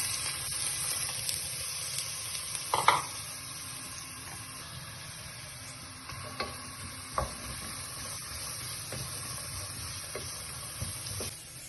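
Finely chopped onions fry in coconut oil in a pan, a soft steady sizzle with occasional stirring scrapes and clinks, close and fairly quiet, with no talking.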